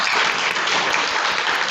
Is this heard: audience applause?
yes